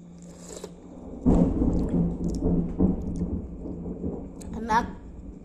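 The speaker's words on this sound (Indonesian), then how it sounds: "Sampai petir pun ikut bersuara." Thunder rumbles in a rural village during a meal, a broad low roll starting a second in and lasting several seconds, with a fainter rumble near the end, while people talk over it.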